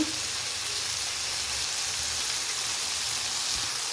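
Food fries in a pan with chili powder and a pinch of pepper powder, giving a steady, even sizzling hiss that stays close and unbroken throughout, with no voices.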